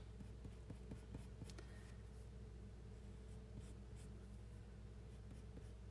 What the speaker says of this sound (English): This is such a slow process using colored pencil.